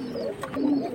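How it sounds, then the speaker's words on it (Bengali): High-flying pigeons coo close by, a short soft throaty burble rising and falling over a faint background, with no talking. "সুন্দর সুন্দর কবুতর অপেক্ষা করতেছে আজকে।"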